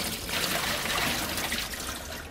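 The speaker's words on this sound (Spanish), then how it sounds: "voy a escurrir la patata en la fregadera" About 650 grams of peeled, broken-up boiled potatoes drained into a kitchen sink: water pours and splashes continuously, loud and close, easing slightly toward the end.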